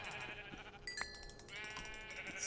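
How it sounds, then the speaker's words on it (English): A sheep in the Minecraft Infinity Evolved modpack lets out a few soft, wavering bleats, faint and alone, with a brief chime between calls. "We have a troll-faced sheep here."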